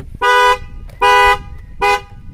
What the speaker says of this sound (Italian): la macchina parte subito a suonare all'impazzata dal clacson lampeggiano anche le frecce